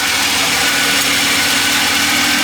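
A Jaguar XJ6 engine idles steadily at a slightly raised speed, a continuous close mechanical hum with broadband hiss and no talking over it.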